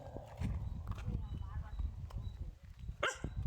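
A dog barks in a village, giving a few sharp barks, the loudest near the end, over a steady bed of outdoor noise while a person talks.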